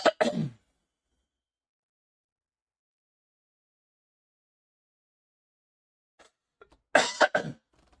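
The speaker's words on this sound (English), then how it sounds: "Oh my god, I can't stop coughing." Repeated coughing from one person: a short burst of coughs at the start, a long silence, then another hard fit of several close, loud coughs near the end.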